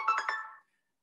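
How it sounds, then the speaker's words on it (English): A phone ringtone chirps briefly during an online neurology grand rounds lecture, three quick electronic pulses that fade out within about half a second, faint and alone. "That was my phone ringing there."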